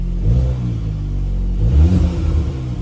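A VW Golf GTI Mk8 with a turbo muffler delete idles with a deep, close rumble and gives two short blips of the throttle, each rising and falling in pitch, with no talking.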